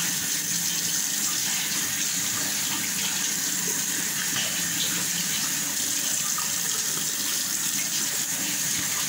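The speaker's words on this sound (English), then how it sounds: "I have to start by washing my face" Tap water running steadily into a sink during face washing, a continuous close hissing gush with no talk.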